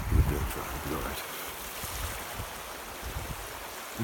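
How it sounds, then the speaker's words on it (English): Brook water runs steadily in a continuous broadband rush, close by and fairly loud, with a few low thumps near the start and no voices. "bit further along the brook, look. It's a bit noisy."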